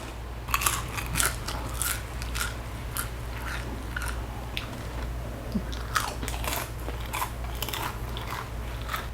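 Close, crisp crunching from steady chewing of sweet and spicy popcorn, with sharp irregular crackles repeating throughout over a low background hum.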